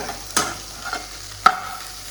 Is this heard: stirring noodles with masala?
yes